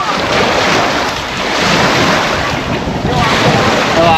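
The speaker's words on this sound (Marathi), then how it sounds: "आवाज सुद्धा लाटेंसारखा आहे असं वाटतं का आपण समुद्रात आलेलो आहे" Waves on a dam reservoir near Bhandardara in Nashik district, surging like sea surf, make a loud continuous wash mixed with heavy wind rumble on the microphone.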